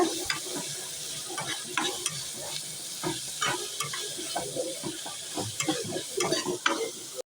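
Big onions sautéing in oil in a pan for paneer gravy, with a steady sizzle and frequent scraping stirs, close and fairly loud with no talking.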